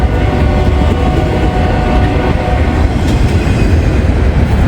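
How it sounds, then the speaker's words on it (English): Norfolk Southern freight train 263 rolls past very close and loud, a continuous heavy rumble of wheels and railcars with faint clickety-clack over the rails throughout. "This is Norfolk Southern train"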